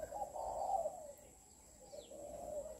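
A three-month-old spotted dove coos in two soft, drawn-out phrases with a short pause between, close and clear against a quiet background.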